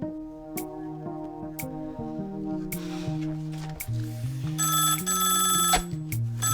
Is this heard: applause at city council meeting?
no